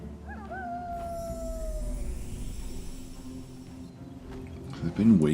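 An enfeebling howl spell cast in the video game Age of Wonders 4, a wolf-like howl that rises then slides down over about two seconds, fading into a low rumble under a steady game background.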